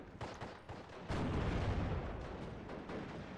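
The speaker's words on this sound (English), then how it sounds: "Pak 40 engaging the rifles though" A Pak 40 anti-tank gun firing in the World War II strategy game Steel Division: Normandy, a sharp blast followed by dense, rumbling battle noise that stays loud and continuous, with no voices.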